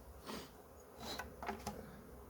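Honeybees at a hive, from a queenless colony being split among weaker hives, hum in a faint, close buzz, with a few louder passes of individual bees.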